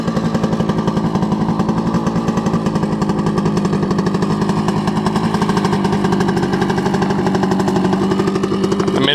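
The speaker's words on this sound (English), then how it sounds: "It's an old noisy two-stroke." A 1971 Kawasaki G3SS two-stroke motorcycle idles close and loud, a steady fast rattling putter with a slightly rising pitch toward the end, no voices.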